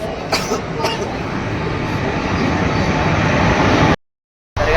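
A train arriving at a station rumbles steadily with a broad, continuous roar, a couple of short sharp knocks early on, then a sudden drop to silence.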